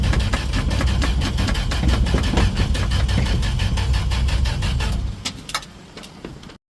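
A 1968 Dodge D100 pickup engine churning through a hard start, a steady loud rhythmic cranking drone held for several seconds before it drops away and cuts out.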